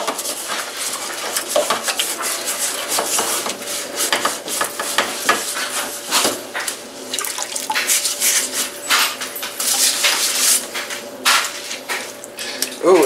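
A Scotch-Brite scrubbing dish cloth works stuck-on food off a pan, giving steady close, wet scouring and rubbing strokes with clinks of dishes now and then, over running water.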